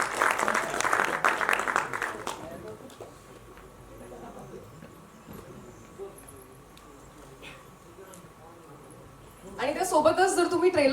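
An audience at a film trailer launch event applauds the new hero and heroine as they come on stage, a brief burst of clapping at the start and again at the end, with an announcer's voice between.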